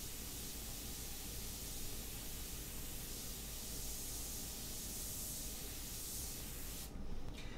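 An airbrush spraying paint onto a portrait gives a steady, even hiss of air that holds almost unchanged for several seconds, then cuts off briefly near the end.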